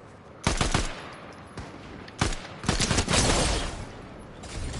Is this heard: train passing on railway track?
no